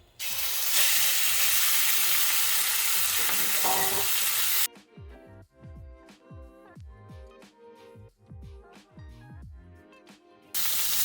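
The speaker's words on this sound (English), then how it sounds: "Oil's starting to smoke. It's time to go in with our pork." Pork hitting smoking-hot oil in a pan for Hong Kong style chow mein, a loud, dense sizzle that roars for several seconds, drops into scraping stirring and clatter, then surges back up at the end.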